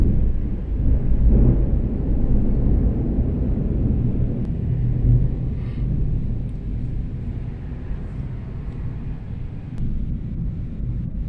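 Heavy thunder rumbling low and continuous during a passing rainstorm, loud and close with wind buffeting the microphone and no talking.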